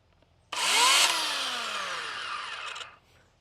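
A battery electric chainsaw switches on suddenly and runs loud and close with a high whine, its pitch sagging slightly, for about two seconds before cutting off and spinning down.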